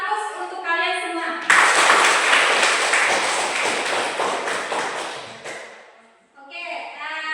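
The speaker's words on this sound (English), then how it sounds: "Give applause untuk kalian semua." A classroom of students breaks into sustained, loud applause lasting about five seconds, with talking just before and after it.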